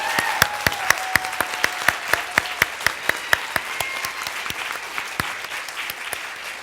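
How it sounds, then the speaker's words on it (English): Audience applause after a live performance show, with one loud, sharp clapper near the microphone keeping a steady beat over a softer wash of crowd clapping throughout. "Let's have Yes. one more round of applause for the whole show."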